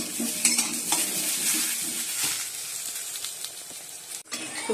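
Potatoes fry in a pan while being stirred, a close sizzle broken by repeated scraping and clinking strokes of a utensil, with a sharp knock near the end.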